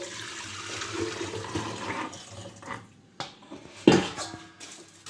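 Water is poured back into a pot while making sfa, with splashing and clinking of dishes and utensils in an uneven close sequence.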